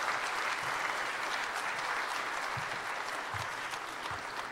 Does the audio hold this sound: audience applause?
yes